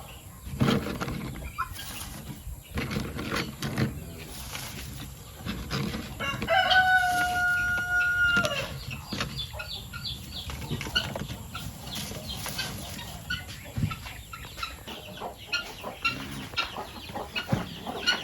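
Backyard chickens cluck and fuss nearby, and a single rooster crows loudly partway through, with scattered rustling and movement around them.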